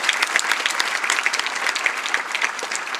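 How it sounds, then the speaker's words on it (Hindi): A large audience at an Uttar Pradesh government award ceremony gives loud, sustained applause for girl prize winners, thick rapid clapping continuing at an even level throughout. "इसलिए ज़रा ज़ोरदार तालियां हो जाएं।"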